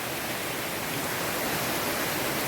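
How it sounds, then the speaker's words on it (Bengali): Heavy dawn rain pours down in Howrah in a steady, dense roar, loud and unbroken throughout with no voices. "ঝমঝমিয়ে বৃষ্টি নামলো"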